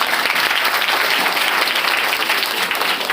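Continuous, loud applause from an audience at an Independence Day poetry recital, a dense steady wash of clapping with no gaps, filling the whole moment on its own.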